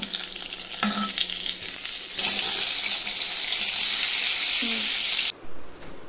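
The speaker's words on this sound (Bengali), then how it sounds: "এখানে বেগুন ভাজা হচ্ছে" Eggplant slices frying in oil in a home kitchen, a loud steady hiss and sizzle that carries on for several seconds before cutting off abruptly.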